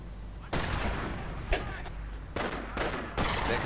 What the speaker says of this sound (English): Stu 42 Sturmhaubitze 42 opening fire.